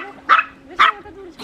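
Chihuahuas by a backyard pool on a hot day give two sharp, high yipping barks, close and loud, with a thin whine running beneath and a third bark starting at the end.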